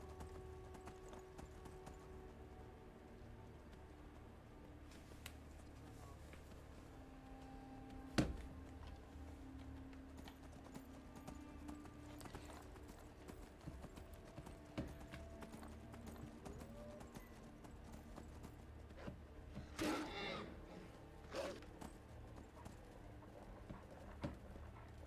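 Faint, rhythmic clip-clop of horse hooves plodding steadily in the video game Skyrim, with occasional soft clicks and a brief louder burst midway.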